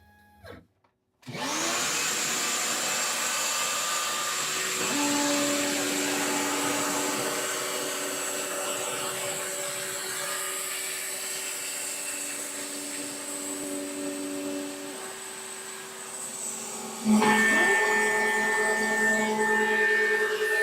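A CNC router cuts a wooden sign with a 1/4 inch bit, a loud, steady mechanical whine and roar with sustained tonal hums that shift pitch partway through. It runs alone for about twenty seconds.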